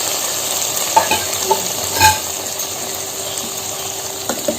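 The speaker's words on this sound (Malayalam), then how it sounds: "ആ നെയ്യോടുകൂടി തന്നെ ഒഴിച്ചു കൊടുക്കണം കേട്ടോ." Ghee with cashews, raisins and coconut pieces poured into broken wheat payasam, a faint sizzle with a few soft clinks and scrapes, quiet and close, with no speech.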